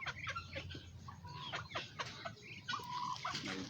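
Domestic pigeons kept as pets gather at feeding time, a close, busy mix of bird calls, clucks and scratchy pecking noises running continuously through the short clip, with no talk.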